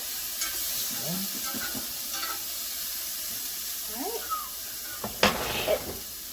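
Pork loin lightly heating in a pan, a soft continuous sizzle with occasional stirring scrapes and a louder clatter near the end, with a voice speaking briefly at the start.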